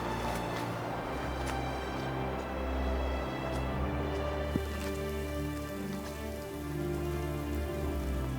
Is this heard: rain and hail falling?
yes